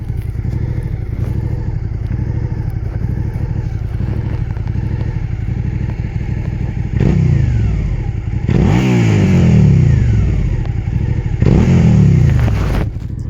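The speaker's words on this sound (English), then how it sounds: "let you hear the bike rev up, because it's a beautiful V-twin sound" A V-twin motorcycle engine idles with a loping, uneven rumble, then revs up sharply several times, the throttle rising and falling loudly nearby.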